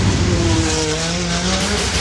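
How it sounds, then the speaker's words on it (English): A race car drives down an orange Hot Wheels-style track, its engine a loud, steady drone with a rising pitch that holds throughout, up close, with no voices. "You put him in that car and you send him down that orange track"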